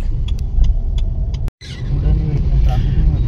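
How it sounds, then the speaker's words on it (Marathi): Busy Mumbai road traffic near Bhuleshwar market: a steady close rumble of car and vehicle engines with passing motors, briefly cut off midway, as someone talks over it. "हे बघ ट्रॅफिक, बघा ट्रॅफिक"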